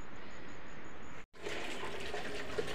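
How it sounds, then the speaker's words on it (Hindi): Tap water pours steadily into a freshly cleaned water tank in the rain, a continuous close rush with a brief cut midway before the flow resumes. "अब पानी भर रहा हूँ इसमें ताज़ा"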